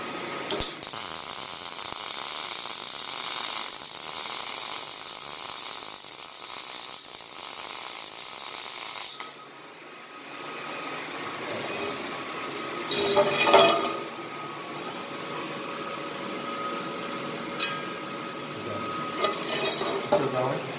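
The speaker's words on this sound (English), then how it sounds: "I'll just do a really small weld so you'll understand kind of what this is going to look like" A short gas welding bead laid with a welder and nozzle in a workshop, a steady loud hissing crackle that cuts off, then scattered clinks and metallic handling sounds, with faint voices in the background.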